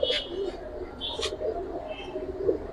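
Khaki pigeons coo in low, rolling phrases at close range, mixed with brief higher chirps and light rustling.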